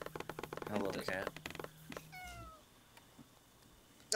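A house cat gives a single clear meow near the microphone, following a stretch of rapid keyboard and mouse clicking during a computer gaming session; a quiet room hum continues afterward.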